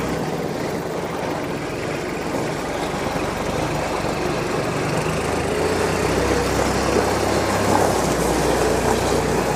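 A 2013 Kubota L3800D tractor's diesel engine runs steadily in high range fourth gear, a loud continuous rumble with a droning low hum that holds level throughout, with no talking over it.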